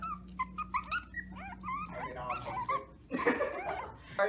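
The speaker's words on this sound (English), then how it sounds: "They're Chihuahuas, that's why." Several small Chihuahuas yip, whimper and bark in quick high-pitched bursts, fairly close, with a louder flurry of overlapping barks near the end.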